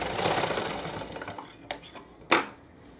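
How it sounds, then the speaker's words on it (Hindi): Sewing machine running a topstitching seam along the upper surface of a belted elastic-waist pant, a dense broadband whir that fades over a few seconds, followed by two short sharp clacks near the end. "अब यहाँ ऊपर की सतह पे सिलाई लगाएंगे।"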